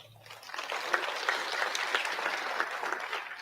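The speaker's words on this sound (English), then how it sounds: "a round of applause" Audience applause at a property sector conference, swelling from quiet into a steady, moderately loud crowd clapping that holds to the end.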